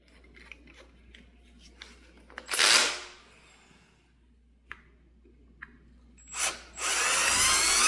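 A power drill enlarges a hole during electronics wiring work, whirring in two short bursts with faint clicks between them, the second burst running longer and louder at the end.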